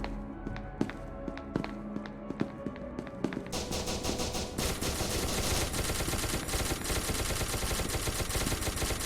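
Gunfire in SCP Secret Laboratory: a few scattered single shots at first, then a dense, continuous burst of rapid automatic fire that grows loud and fills the rest of the scene.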